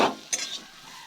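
Potol and tomato stirred in a pan: a brief close scrape of the spoon, then a second quick stroke over a soft, low sizzle.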